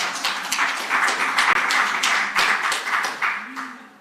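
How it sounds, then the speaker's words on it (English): Audience applause in a hall at a strategic forum, steady clapping from many hands lasting several seconds and tapering off at the end, with some voice mixed in. "And thank you for the applause, by the way,"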